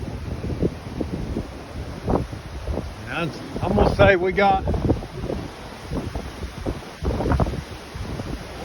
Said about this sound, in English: some pretty big gusts right here right now.